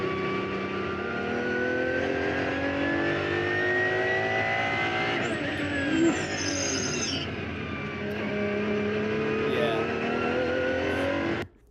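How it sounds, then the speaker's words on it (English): A hypercar with carbon ceramic brakes gives a brief high-pitched brake squeak partway through, set against the steady drone and rising pitch of engines moving past nearby, with faint voices underneath. "if you heard that squeak just then, I think that was his carbon ceramic brakes"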